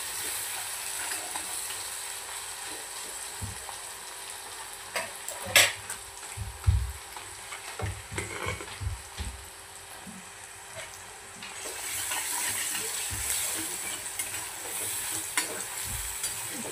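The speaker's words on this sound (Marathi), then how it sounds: "कांदाच आपल्याला छानपैकी असं यामध्ये परतून घ्यायचा आहे।" Chopped onion sautés in hot oil in a pan, a steady sizzling hiss with bursts of scraping and knocking as a spatula stirs it, the frying swelling louder toward the end.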